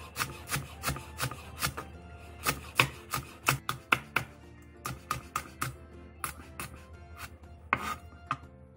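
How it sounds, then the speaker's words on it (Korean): A knife chops sliced whole garlic cloves and finely cut green and red Cheongyang chili peppers on a cutting board, with close, crisp, rhythmic taps in quick bursts and short pauses, and no voices. "통마늘 7개를 편 썰고 청양고추 2개, 청양 홍고추 1개를 쫑쫑 썰어주세요"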